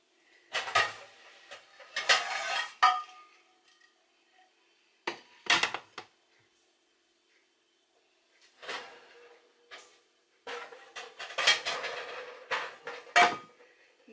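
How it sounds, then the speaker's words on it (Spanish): A frying pan is pulled out in a home kitchen amid bursts of metallic clattering from pots and pans, several short knocks and bangs separated by quiet pauses, close by with no talk. "voy a sacar la sartén"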